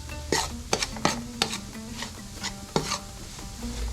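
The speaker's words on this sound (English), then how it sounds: "Right, stirring it." A spoon scrapes and knocks against a big pot as chicken curry is stirred, about six or seven distinct clanks over a soft bubbling sizzle, close and fairly loud, with no speech.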